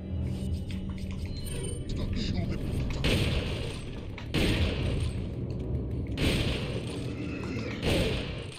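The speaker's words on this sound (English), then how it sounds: "That was like three magnum shots and four shotgun blasts." Heavy magnum shots and shotgun blasts in Resident Evil 4 HD, three or four loud booming bursts each trailing off, with someone talking across them.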